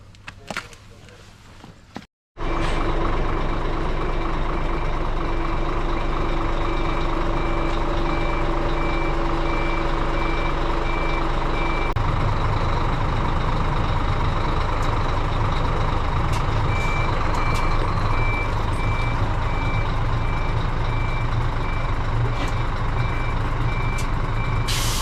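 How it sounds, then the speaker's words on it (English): A coach fitted with snow chains reverses, its steady engine rumble loud and close throughout while a clear, evenly spaced reversing beep repeats over it, after a brief quieter moment and a sharp cut near the start. "now I'm just going to simply move the bus forward, or in this case maybe backwards"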